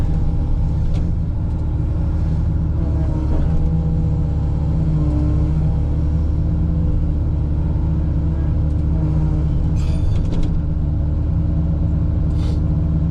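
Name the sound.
truck engine pulling a root rake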